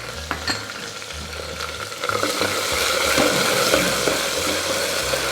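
Finely sliced onions fry with whole garam masala spices in a pan for paneer pulao, giving a steady close sizzle broken by occasional stirring scrapes and low knocks, with no one speaking.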